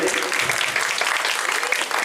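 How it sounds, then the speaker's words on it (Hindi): Applause welcoming a speaker at a Hanuman Chalisa Parivar evening gathering honouring martyrs in Pathankot: a crowd claps in a dense, continuous wash, steady and fairly loud, with a faint voice murmuring underneath. "तालियों से इनका स्वागत करिए। तालियां जोरदार होनी चाहिए भाई।"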